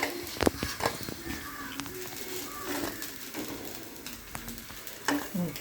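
Raw plantain pieces fry in a pan as steady, faint sizzling and bubbling, with occasional clinks and scrapes of stirring, while a bird coos softly in the background.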